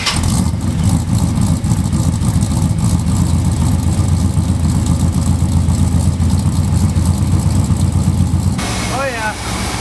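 A Squarebody Chevy truck engine with new spark plugs and wires runs close and loud at a steady, rough idle throughout. It cuts off near the end, leaving a brief squeak and some faint background noise.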